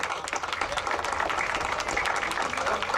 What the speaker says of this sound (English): Give a round of applause, Team OG.